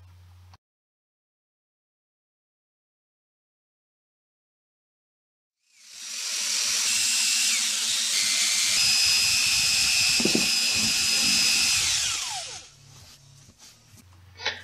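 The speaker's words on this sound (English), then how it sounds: "I had to drill the holes on the speaker a little bit bigger for my mounting bolts." A power drill bores holes through a speaker to widen them for mounting bolts, a loud steady whirring grind lasting about six seconds after a long silence, then winding down and stopping.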